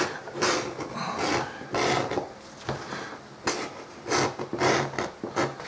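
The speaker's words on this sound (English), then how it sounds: "This process is called beveling. I like to bevel all my edges." Leather edges being beveled for a Viking Hedeby-style archery quiver, heard as a run of close, rhythmic rasping strokes, roughly a dozen in quick succession with no talking.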